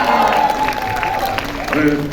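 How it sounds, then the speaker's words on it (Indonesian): Applause from a press conference audience at a film premiere event, a steady patter of clapping running under a voice and other chatter. "Tepuk tangan dulu."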